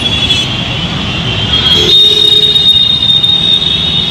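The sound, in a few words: metro train at Govindpuri metro station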